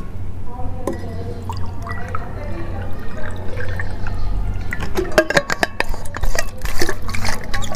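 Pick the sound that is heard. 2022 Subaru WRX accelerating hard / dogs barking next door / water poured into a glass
water poured into a glass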